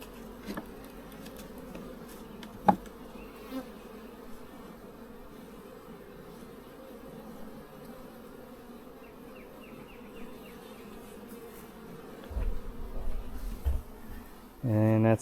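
Honeybees buzz steadily around a weak hive during spring buildup, a dense droning swarm sound that runs throughout, with a few louder knocks and handling noises near the end.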